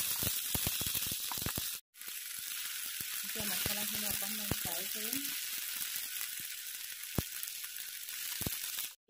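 Masala paste sizzles in oil in a hot pan, a loud, steady frying hiss with crackles, broken once by a brief silence and later by a few clinks and stirring sounds.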